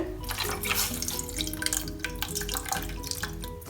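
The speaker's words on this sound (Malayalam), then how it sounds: "ഇതിലേക്ക് ഞാൻ 1 കപ്പ് വെള്ളമാണ് ചേർക്കുന്നത്." Water from a cup is poured into a pan to melt jaggery for a home-cooked payasam, a steady close splashing flow.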